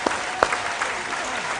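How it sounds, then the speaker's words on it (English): Studio audience applauding quiz contestants at a school quiz competition, a steady dense wash of clapping with a few sharper individual claps standing out, fairly close and loud. "Ladies and gentlemen, a round of applause for them."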